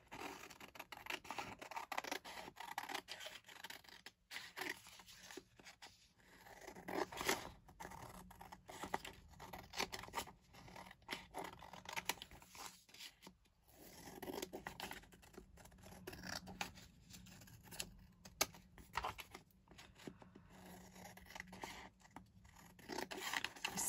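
Scissors cut out a paper tag for a craft project. Quiet, close snipping and rustling paper continue throughout with no voices.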